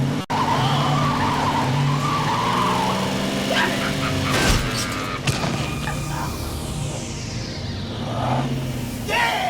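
In a film scene an ice cream truck runs someone down, tires skidding and squealing with a loud engine roar, a sharp crash thud midway and continuing vehicle noise with a dog barking.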